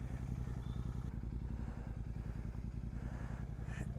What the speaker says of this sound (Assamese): বাইকখন দিছোঁ ক'ল্ড ষ্টাৰ্ট হ'বলৈ